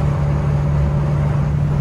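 A C3 Corvette with an LT1 engine cruising at 65 mph on the highway gives a steady, loud low drone with a constant hum, with no change and no voices.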